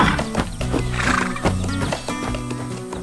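A cartoon brown horse riding in the back of a red truck neighs and whinnies, with clip-clop hoof beats over cheerful background music throughout.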